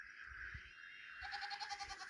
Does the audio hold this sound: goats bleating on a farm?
yes